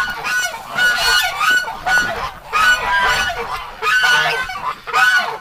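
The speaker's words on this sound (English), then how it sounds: "go, little duckies, I'm coming through" Domestic ducks or geese honk loudly and repeatedly in rhythmic bursts close by, outdoors near a frozen gate in winter, with no talking over them.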